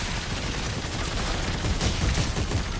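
Enemy gunfire in Dead Space 3 on the icy planet Tau Volantis, a dense rattling fusillade mixed with a rumbling background, steady and loud throughout.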